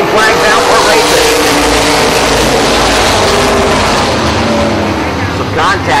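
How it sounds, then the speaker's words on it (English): Race cars take a green flag restart at a racetrack, and a loud, dense roar of many engines accelerating fills the air. A commentator talks continuously over the engine noise. "Everybody standing on the gas. Green flag's out for racing."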